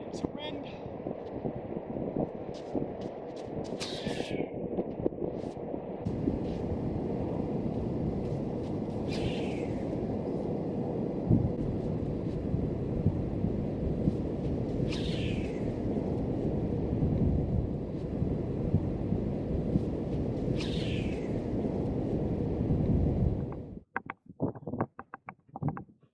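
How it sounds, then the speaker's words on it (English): Steady wind buffeting a microphone outdoors at a discus-launch glider flying field, a loud continuous low roar with occasional gusts before it drops away near the end. "It's a wind."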